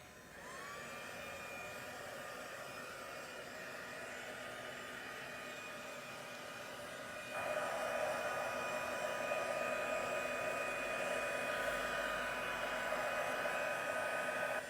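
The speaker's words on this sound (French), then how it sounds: "je lance le heat gun" A heat gun dries a mixed media canvas with a steady, close whooshing hum of blown air that steps up louder about halfway through, with no talking.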